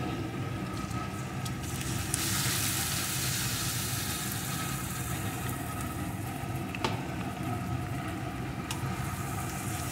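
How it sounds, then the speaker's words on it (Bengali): Ground spice paste added to lightly sautéed onions in a pan for chicken curry, frying with a continuous moderate sizzle and soft scraping stirs, a few sharper clicks of a utensil against the pan. "এখন যে মশলাটা পেস্ট করে রেখেছিলাম ওই মশলাটা এর ভিতরে দিয়ে দেব"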